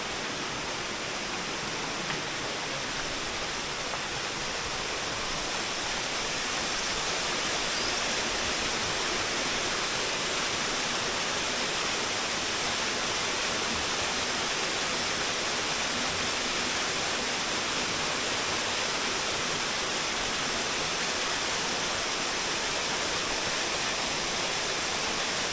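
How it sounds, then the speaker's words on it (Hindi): A waterfall beside a hotel near Bharmour in Himachal Pradesh, heard as a steady, dense broadband rush of falling water that holds evenly throughout with no voices over it. "हम जिस होटल में रुके हैं उसके पास ये देखिए इतना सुंदर झरना है।"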